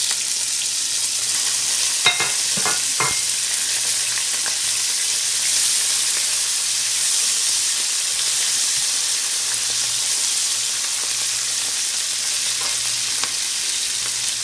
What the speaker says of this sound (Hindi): ये जब हो गया तो अब हम इसके अंदर ये छोले डाल देंगे।